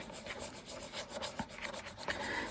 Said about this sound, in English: Let's burnish that down.